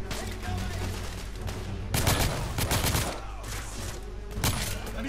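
Sustained gunfire in The Order: 1886, with steady rapid shooting throughout and a few heavier, louder volleys standing out against the continuous firefight.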